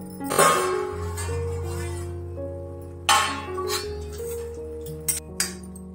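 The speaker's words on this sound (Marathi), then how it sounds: "तर आपण भाजीची झाकणी काढून बघूया।" A metal lid clinks as it is lifted off a pot of dill greens cooking on a low gas flame, a few sharp clatters over a steady low hum in a home kitchen.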